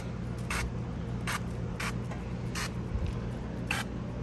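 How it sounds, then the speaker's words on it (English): Five short hissing sprays from a spray bottle onto a whole chicken on a Ninja Woodfire outdoor grill, evenly spaced, over a steady low background hum. "Give it one more little spray down."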